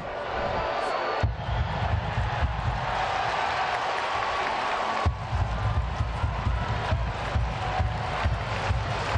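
Late in a July 2017 USL match between FC Cincinnati and Rochester Rhinos, a stadium crowd in the corner roars steadily, with deep rumbling surges that cut in and out and scattered claps.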